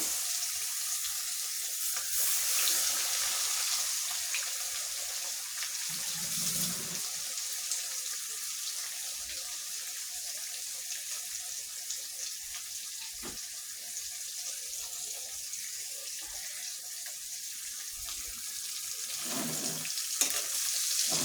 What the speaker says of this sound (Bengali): এভাবে আমি মাছটা ভেজে নেবো